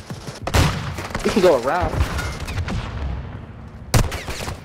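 Video-game gunfire crackles in sharp bursts near the start and again near the end, sitting under a voice as he talks through a team firefight.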